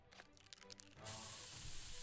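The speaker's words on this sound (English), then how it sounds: "Oh, they've pepper sprayed me" A loud, steady spray hiss bursts on after a second of quieter game sounds and holds to the end, as pepper spray is fired at the player in a video game.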